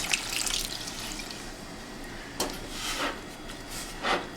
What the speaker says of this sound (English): I'm gonna add more water to cook with the meat